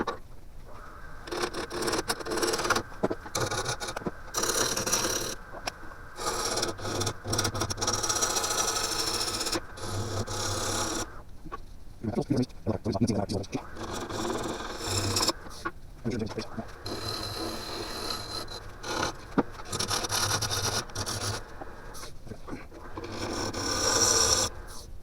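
A lathe tool hollows out a cherry wood urn, giving intermittent scraping and rasping bursts with short pauses between cuts, interrupted by brief spoken remarks.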